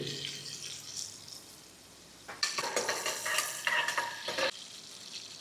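Green chillies frying in sunflower oil: a quiet background sizzle, then a louder burst of crackling spatter for about two seconds before it settles back.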